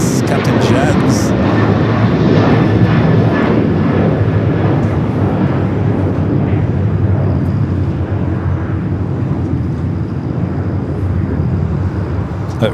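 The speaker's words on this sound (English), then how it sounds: "All right, Cargo Lux. 5 left, takeoff." A Cargolux cargo jet takes off from runway 25L at LAX, its engines a loud, steady roar that slowly fades over several seconds, with people talking nearby.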